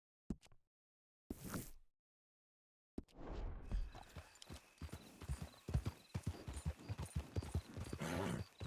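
In a video game, horse hooves clip-clop in a quick, steady rhythm after a few brief sounds and a short gap, close and clear with a busy background behind them.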